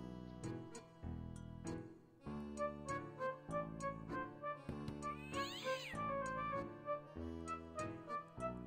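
A cartoonish cat meows repeatedly in the video game Братья Пилоты 3, a run of clear, tonal, close meows in a steady rhythm with a brief ticking chime partway through, and no one talking.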